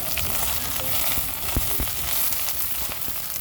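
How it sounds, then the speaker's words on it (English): Chaya plant leaves fry in a pan over an open outdoor flame, giving a steady, dense sizzle with occasional crackles and pops, loud and close throughout. "this is my first time cooking it outside on an open flame"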